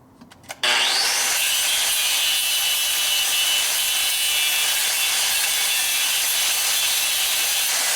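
A power saw bites into the cracked rear crash bar of a 1942 Harley-Davidson WLC/WLA 45ci, slicing the metal open; a loud, steady, close-up whine that starts abruptly and holds unbroken to the end.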